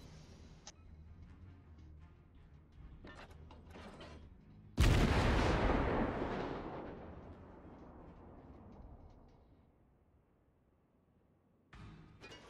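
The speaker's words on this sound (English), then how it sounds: "Luckily, these secondaries of the Tirpitz are quite awesome." Tirpitz secondary guns firing during a World of Warships naval battle: a loud sudden blast that rolls off in a long rumbling decay, with smaller gun reports before it and another shot near the end.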